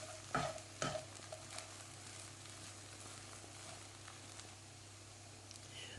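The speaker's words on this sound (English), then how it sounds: "Just add that in and stir that in. And then just continue to cook this on low heat." Potato samosa filling is stirred in a pan over low heat, giving a steady soft sizzle with a few louder scraping stirs near the start, then quieter frying alone.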